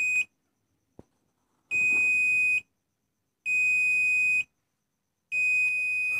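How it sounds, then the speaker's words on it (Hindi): Multimeter testing a transistor in a 1200 watt booster amplifier, giving three long, loud, steady beeps at regular intervals with silent gaps between them and a faint click before the first. "तो ये ट्रांजिस्टर को हम एक बार बाहर से भी टेस्ट कर लेते हैं अपने मल्टीमीटर के"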